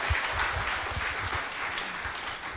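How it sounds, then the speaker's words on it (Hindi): Sustained audience applause fills a live gathering, a dense, even wash of many hands clapping close by with no voices over it. "इनके लिए ताली तो बजाइए"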